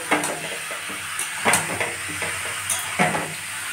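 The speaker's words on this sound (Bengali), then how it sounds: "প্রথমে এটা আমি লাল লাল করে মাংসটাকে ভেজে নিই" Meat browns in a hot pan under a steady hiss of sizzling, broken by a few louder scraping stirs of a utensil against the pan, close by and with no talking.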